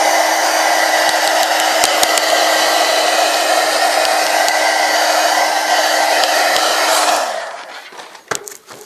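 Hair dryer blowing on wet glue on a lace mini book, a loud continuous whoosh that runs steadily for several seconds, then cuts off, followed by a few faint handling clicks.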